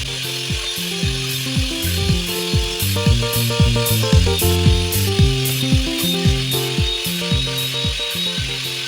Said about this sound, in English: So you'll use this blender to make sure that everything is well mixed